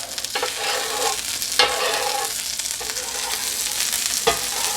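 Chopped cheesesteak meat sizzles in grease on a flat griddle, a loud steady hiss broken by a few sharp spatula scrapes and stirs, close up with no talking.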